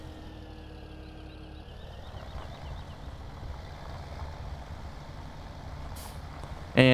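Engine drone of a tractor plowing a field in the video game Farming Simulator 17, a steady low rumble with a faint whine, ending in a brief louder click.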